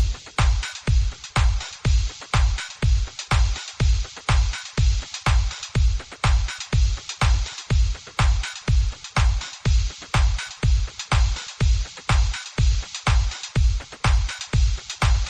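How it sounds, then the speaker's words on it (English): A steady, punchy lofi house drum loop, compressed on a drum bus, with a thumping four-on-the-floor kick and gritty, crunchy bit-crushed hats, repeating evenly and loudly without any voices. "I then took all these drum sounds and routed them to this drum bus"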